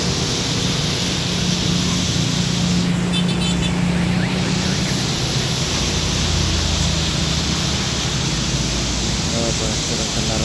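Dense road traffic on Jalan Perintis Kemerdekaan in Makassar, heard from a pedestrian bridge: a loud, continuous roar of many passing vehicles with a steady wash of engine and tyre noise throughout.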